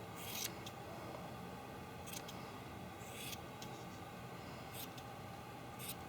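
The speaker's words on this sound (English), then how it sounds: "And I will trim my tassels." Scissors trimming the yarn tassels of a handmade poi ball, heard as a few faint, quiet snips spaced apart over a low steady background hiss.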